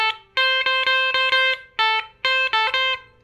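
Guitar lick alternating between fourth-finger and index-finger notes, a quick back-and-forth of clear plucked notes in short bursts, played alone and up close with a bright, slightly driven tone.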